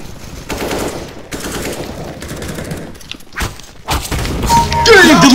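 Rapid gunfire and thudding shots in an online shooter video game, loud bursts layered over game sounds, with someone talking excitedly over it.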